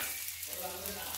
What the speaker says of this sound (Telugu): మసాలా ఐటమ్స్ ఫ్రై అవుతాయి